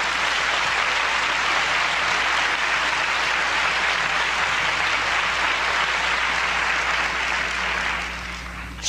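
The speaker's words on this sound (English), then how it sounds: "Go ahead and give the Lord a clap offering." A church congregation at a sermon claps together in sustained, dense applause that holds steady and then fades slightly at the end.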